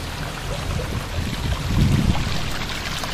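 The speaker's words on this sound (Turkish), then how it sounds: "lağım suyunun aktığı yer" Sewage water flows steadily out of a drain toward the sea, a continuous rushing pour that swells slightly midway, with no voices.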